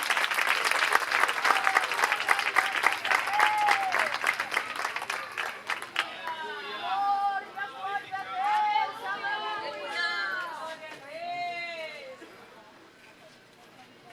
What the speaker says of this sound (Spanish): salva de palmas para o Senhor Jesus Cristo.